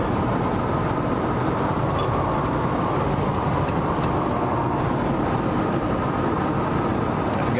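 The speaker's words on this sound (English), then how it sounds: "Got a little wind noise because the wind's blowing pretty good today." Steady broadband roar inside a Jeep Wrangler JLU cruising at 70 mph on a gusty day, wind rush blending with road and tire noise in a constant, even wash without speech.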